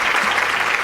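Steady applause from a group for a Class 4 prize winner at a Student of the Year event, dense continuous clapping filling the moment, close and fairly loud.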